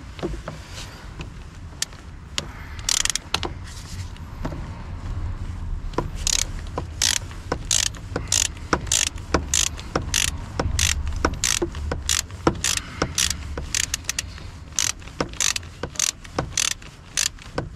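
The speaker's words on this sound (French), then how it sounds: "on enlève le câble, le boulon" Ratchet wrench loosening the battery terminal bolt on a Renault Clio 4, rapid clicking in repeated bursts close by, with metallic handling between strokes.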